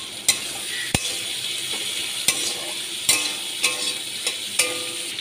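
Onions and chopped ginger fry in a pan with a soft sizzle, broken by sharp scrapes and knocks of a spatula stirring at irregular intervals, close and moderately quiet, with no voices.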